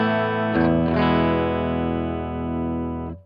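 Dry electric guitar from a 1963-style Kaufman Telecaster on the bridge pickup through a Vox AC15 amp: a few strummed chords ringing out close and full, fading after about three seconds, no talking.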